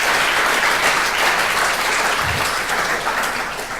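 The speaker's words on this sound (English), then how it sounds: "give a round of applause to our panelists for participating today" Audience at a panel on space and the Arctic applauds loudly and continuously, a dense wash of clapping that tapers slightly toward the end.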